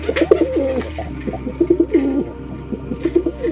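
A large white fantail pigeon of jumbo size coos close by in repeated soft throaty bursts, with a few brief pauses between phrases, and no one talks.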